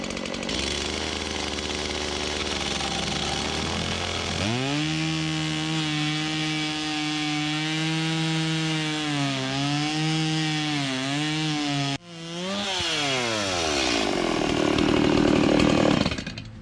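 A power saw cuts through a rotten wooden barn post, its motor whining loud and continuous, the pitch sagging under load and briefly dropping out before revving up again near the end.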